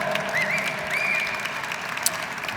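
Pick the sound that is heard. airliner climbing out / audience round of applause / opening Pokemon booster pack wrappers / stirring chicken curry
audience round of applause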